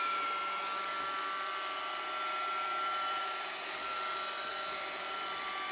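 A Roomba robot vacuum cleaner runs indoors with a steady whirring hum. It stays fairly faint and even throughout, and no one speaks.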